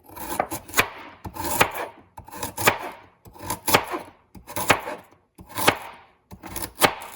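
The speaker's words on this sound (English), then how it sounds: "So we're slicing into thin circles." A knife slices peeled carrots into thin circles on a cutting board, giving a steady series of crisp chops in quick bursts, close and clear with no voices.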